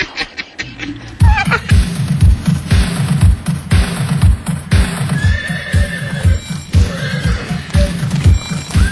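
A horse whinnies loudly and hooves clip-clop in a fast, even galloping rhythm, a close and steady sound effect, with further neighs breaking in above the hoofbeats.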